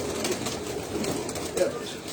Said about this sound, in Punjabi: ਇੱਕ ਕਬੂਤਰ ਉੱਥੇ ਹੀ ਹੈ